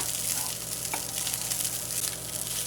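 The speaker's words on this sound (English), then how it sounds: "keep it on a low flame when you are frying with rice" Rice for coconut rice frying in a pan over a low flame, a steady close sizzle with faint stirring throughout, no voices.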